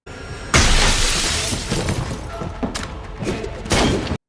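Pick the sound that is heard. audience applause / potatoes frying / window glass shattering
window glass shattering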